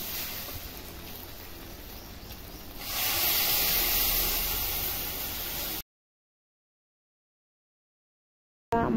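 Water poured into a hot pan of frying egg mixture in a home kitchen bursts into a loud, steady sizzling hiss that swells midway, holds for a few seconds, then cuts off to silence.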